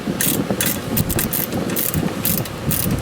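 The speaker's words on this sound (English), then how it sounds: "And then follow up with a combination wrench." A combination wrench tightening a bolt on a DeLorean cooling fan install, with repeated metallic clicking and ratcheting strokes close up over a steady low engine-like rumble, no voices.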